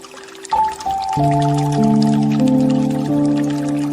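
Water pours into a glass, a splash at first, then a rising ringing tone as it fills, steady and close.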